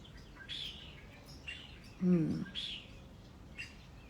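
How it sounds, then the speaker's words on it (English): Faint birds chirping and whistling outdoors over a low background hum, with a brief close sound in the middle. "I don't know if you're hearing this, but the birds, oh my God. I love it."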